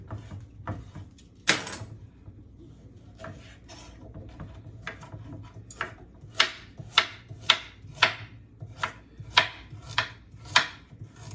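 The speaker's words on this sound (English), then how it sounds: "And I'm cutting the carrots all about the same size as well." Knife blade strikes a cutting board in a steady run of sharp, close chops while carrots are cut into even pieces, starting sparse and then settling into a regular rhythm, with no talk.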